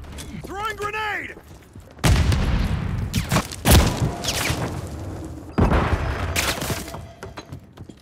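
Grenade blasts in a Call of Duty multiplayer match: a short mechanical chatter, then sudden loud booms with crackling debris tails, the last a few seconds later, amid game sound effects.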